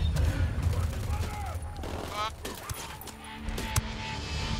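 Rapid bursts of gunfire in the video game Ghost Recon Wildlands, several shots and fusillades over a rumbling backdrop, with a voice speaking among them.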